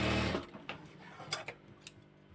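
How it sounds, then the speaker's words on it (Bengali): Sewing machine stitching a neckline onto fabric, a short whirring burst at first, then soft scattered ticks and clicks as the needle mechanism moves, quiet and close. "গলাটা আমি কাপড়ের উপর বসিয়ে সেলাই করে নিচ্ছি।"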